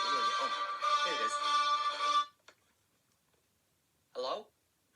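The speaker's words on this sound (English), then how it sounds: "My phone's ringing." A mobile phone ringtone plays a bright, tonal melodic pattern for about two seconds, stops, then sounds again briefly after a pause, fairly close with no talk over it.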